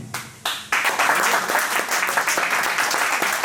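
An audience bursts into loud, sustained applause at a network plan presentation event, with a short quieter patch of clapping before the full crowd joins in and keeps going.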